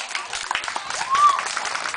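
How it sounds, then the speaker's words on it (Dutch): Audience applause for playback show contestants, a steady patter of many hands clapping with a cheer rising midway, voices audible beneath. "Geef ze nog een groot applaus."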